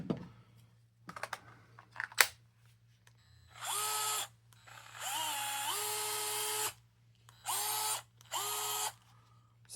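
A refurbished Dewalt 8V gyroscopic electric screwdriver, DCF680, with its bit and battery removed, whirs in several short bursts of a second or two, separated by clicks and handling knocks, close and fairly loud.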